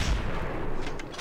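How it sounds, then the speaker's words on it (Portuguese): A 12-gauge shotgun blast in a video game, a loud broad boom with a rumbling tail that fills the short moment, with no talk over it. "Tirozão de 12 na fuça."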